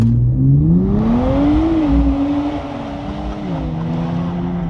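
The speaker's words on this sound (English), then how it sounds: "we're going to launch the Z NISMO" A Nissan Z NISMO launches hard from a standstill, its engine note rising steadily through the revs, then dipping at a gear change and pulling on again, loud and close.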